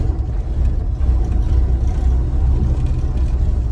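A junkyard Ford F100 pickup with failed brakes backs up slowly, its low engine rumbling and whirring steadily up close.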